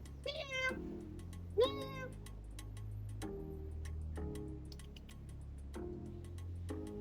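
Cat at a temple in Hong Kong, giving two clear rising meows close by in the first two seconds, followed by quieter short chirps and ticking sounds over a low background hum.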